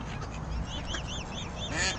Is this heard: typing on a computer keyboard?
no